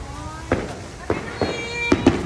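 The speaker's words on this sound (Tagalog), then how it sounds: "Fireworks!" New Year fireworks burst repeatedly at Enchanted Kingdom, a run of sharp cracks and booms at irregular intervals over a steady wash of crowd noise and distant crackle.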